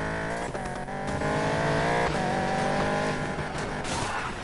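A 1200-horsepower Camaro races in a video game, its engine roaring loud and close with rising revs and bursts of tire squeal over a continuous high-pitched whine.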